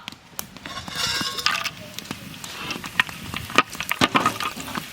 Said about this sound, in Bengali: তেল গরম হয়ে গেছে, প্রথমে দেব গরম মশলা গোটা